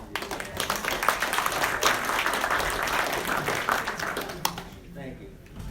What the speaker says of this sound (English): how about applause for you?